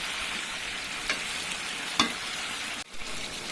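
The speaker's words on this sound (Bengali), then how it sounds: "এবার আমি দিচ্ছি এর মধ্যে মিট মশলা আবার আমি কিছুক্ষণ ভালো করে কষিয়ে যাবো" Meat with meat masala is stir-fried in a pan, making a steady, soft sizzle with a couple of faint utensil clicks and one brief scrape, heard close with no talking.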